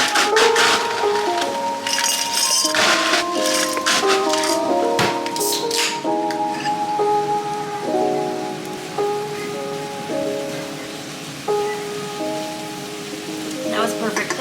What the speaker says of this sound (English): That was perfect. That was a perfect pour.